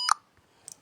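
A handheld ghost detector gives a short high electronic beep, then after a pause two fainter quick chirps close together.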